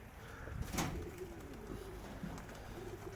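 Pigeons coo softly inside a pigeon loft, low murmuring calls under a steady hum of room noise.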